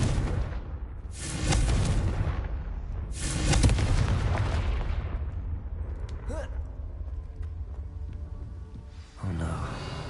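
A Confringo fire-spell blast in Hogwarts Legacy, with two heavy booming bursts that each roll off into a long rumbling tail, then quieter crackles and a short sharp pop near the end. A voice can be heard at times.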